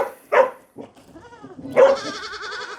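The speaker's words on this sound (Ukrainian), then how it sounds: "Козел. Козліна." A young tagged billy goat bleats twice, close and clear, with a short gap between the calls. The second bleat is longer and wavering, and there is quiet around both.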